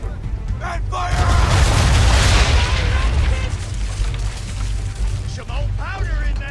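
Cannon fire and an exploding powder barrel in Assassin's Creed 3, a deep rumbling boom that swells and holds for a few seconds before slowly fading, with scattered crackling debris and faint voices in the background.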